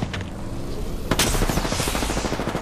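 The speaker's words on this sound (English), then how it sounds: "The enemies are shooting at me." Enemy gunfire in a video game, a loud, dense stream of rapid shots and bursts that starts a little into the clip and keeps hammering without a break, with no voices.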